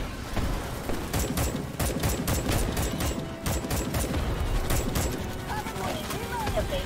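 Gunfire from shooting bugs in Starship Troopers: Extermination, a dense stream of rapid automatic shots running almost the whole way through, loud and continuous, with game voices mixed in.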